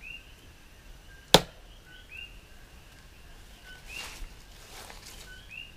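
A Bark River Grasso Bolo 2 knife with a 9-inch 5160 steel blade strikes wood in a single sharp, loud snap-cut chop, followed by quieter outdoor ambience with birds chirping in the background.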